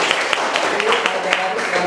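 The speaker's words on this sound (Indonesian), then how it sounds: "Tepuk tangan." Brief, light applause from students in a classroom lesson, a few sharp claps over a busy murmuring background.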